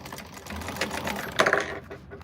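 A sewing machine back stitches through a quilted bag panel with piping, a quick rattling run of needle strokes close by, ending in a brief sharper clatter.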